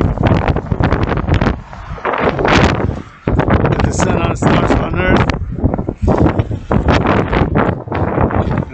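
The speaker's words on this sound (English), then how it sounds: "Windy." Wind buffets a handheld microphone outdoors, a loud, gusty rumble that keeps rising and falling under a person talking throughout.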